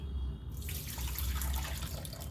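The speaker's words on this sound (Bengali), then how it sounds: "এখানে আমি কুমড়ো আর আলুটাকে ভালো করে ধুয়ে নিচ্ছি" Pumpkin and potato are rinsed under a running kitchen tap. A steady stream of water splashes and gurgles into a sink, starting after a brief quiet moment.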